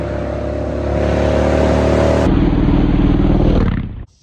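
A 2006 Yamaha Road Star 1700 motorcycle engine revs loud and close, a steady throaty roar that shifts pitch partway through, then cuts off abruptly at the end.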